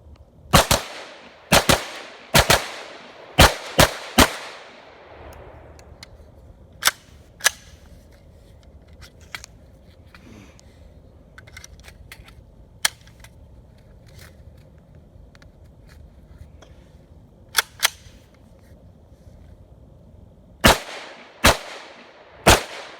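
A Chiappa PAK-9 9mm AK-style pistol fires in sharp, loud bursts of several rapid shots, then scattered single shots with quiet gaps, and a final quick string of rounds.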